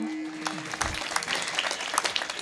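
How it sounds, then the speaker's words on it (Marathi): A kirtan audience claps in a sustained, fairly quiet round of applause with dense overlapping claps, and a voice is briefly heard at the start. "समजलं तर टाळ्या वाजवा"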